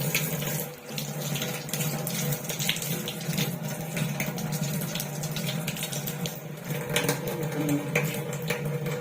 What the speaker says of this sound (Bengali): আদাটা আমি ভালো করে ধুয়ে নেব